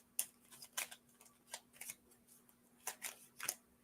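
Small cards are shuffled and riffled by hand at a table, giving a series of faint, quick crisp flutters and snaps spaced irregularly over a few seconds.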